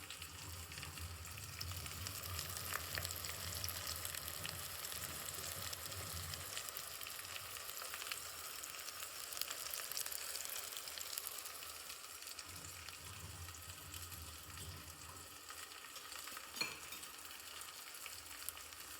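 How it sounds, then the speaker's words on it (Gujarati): Spiced vegetables for sambhariya cook in oil in a covered pan over a gas flame, giving a steady, soft sizzle with a faint hiss and no voices. "આમાં તેલમાં શેકાવા દેવાનું છે."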